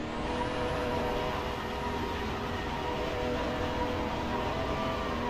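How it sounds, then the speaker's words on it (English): Ferrari GT3 race car in Assetto Corsa Competizione doing donuts, its engine a steady, loud, harsh drone with rising whine that holds without a break. "This car does not sound good doing donuts"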